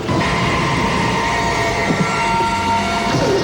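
An armored subway train from the film Money Train rumbles along steadily, a dense, continuous rail roar with faint squeals and no speech.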